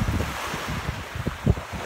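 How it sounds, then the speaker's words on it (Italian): Rough, agitated sea with a current below a fishing spot, waves surging and breaking in irregular low bursts amid gusty wind noise on the microphone, no voices. "c'è il mare sotto, si sta agitando parecchio, c'è corrente"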